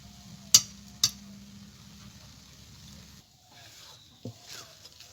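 Ghee added to malai roll filling of milk and bread cooking in a pan, with two sharp utensil clinks against the pan over a steady low sizzle, then a quieter stretch and another soft clink near the end.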